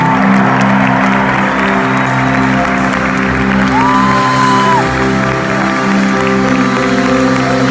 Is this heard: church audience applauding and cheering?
yes